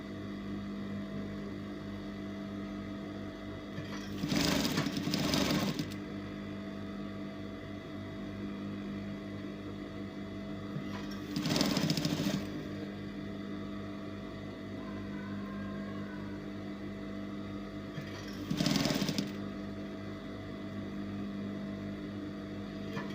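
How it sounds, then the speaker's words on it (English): A sewing machine gently stitches the neckline of a bodycon top in three short bursts of about a second each, spaced apart by quiet stretches with a faint background hum. "You have to be gentle while stitching this. To avoid overstretching the neckline."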